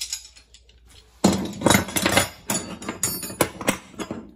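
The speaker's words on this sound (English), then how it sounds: "Give me just a moment here to arrange these adjustable wrenches and this standard wrench" Adjustable wrenches and a standard metal wrench set down and shuffled on a surface, making a burst of irregular metallic clinks and clanks after a brief quiet start.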